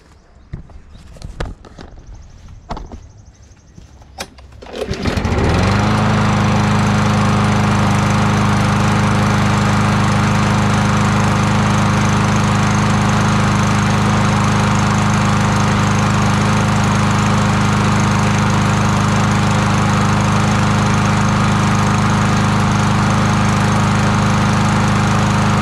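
A small engine, its carburetor freshly cleaned, starts after a few seconds of handling noise and then runs steadily at a loud, even idle with a constant drone and no talk.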